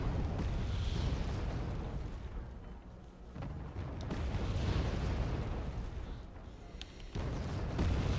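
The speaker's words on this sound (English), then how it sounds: "Just some scary artillery being fired at him." Artillery barrages in the Wargame Red Dragon strategy game, rolling booms and bursts overlapping into a steady, fairly quiet rumble with several sharper impacts spread across the stretch.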